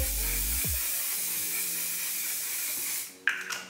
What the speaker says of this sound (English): I'm gonna use my One Size Beauty On Till Dawn setting spray